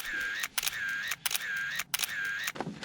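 A camera on self-timer beeps in a steady repeating pattern, then the shutter clicks once at the end, taking a group selfie outdoors on a mountain hike near Paleros, Greece.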